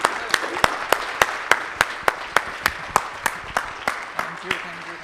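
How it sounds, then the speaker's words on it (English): Conference audience in Bahrain applauding, heard as a steady run of sharp, evenly spaced claps at moderate level with no talking over it. "with a huge round of applause"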